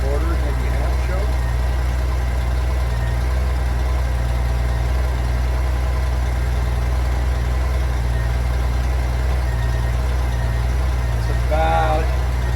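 A 1994 Honda GL1500 Goldwing motorcycle engine idles steadily on first start after a fuel pump replacement, a loud continuous low hum close by, with a brief faint voice near the end.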